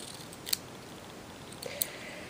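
Scissors snip a paper strip for a handmade friendship card, giving two short, crisp cuts about a second apart against a quiet, steady background hiss.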